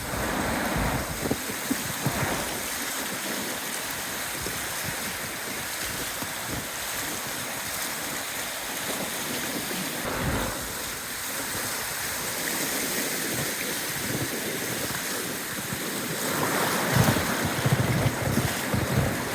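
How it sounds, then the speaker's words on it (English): Rapids on the New River below Baker Island rush steadily through a float, a continuous broad wash of churning water with some wind buffeting, no voices. "a float through some rapids on the New River just below Baker Island"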